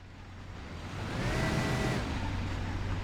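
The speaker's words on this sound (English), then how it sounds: "Also, this car sucks at reversing. Oh my goodness. Listen to that engine." A car engine in the Mafia video game revs and whines while reversing, a strained steady drone that swells and holds loud for a couple of seconds with no talk.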